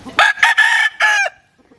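A gold Bulik gamecock rooster crows loudly and close by, one long broken call with a harsh, stretched final note, then quiet.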